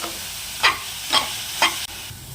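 Vegetables with Kashmiri chilli powder, turmeric and salt sizzle softly in hot oil while a spoon scrapes and stirs three times in a steady rhythm, close and fairly quiet, with no talk.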